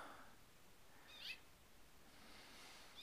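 A bird calls near a cactus outdoors, giving a faint, brief call that stands out once over quiet background noise.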